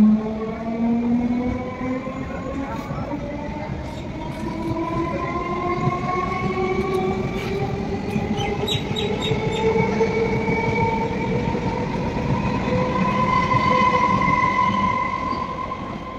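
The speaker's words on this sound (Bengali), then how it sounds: "একটা ট্রেনও ঢুকছে" A train rolls across the railway near the Nashipur rail bridge, its rumble loud and close, with long rising wheel squeals and metallic clanks building over the whole stretch.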